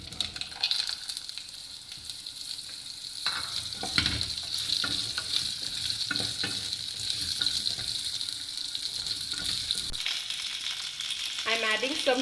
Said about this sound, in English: after this flutter, I am going to add the cubed pumpkins to this.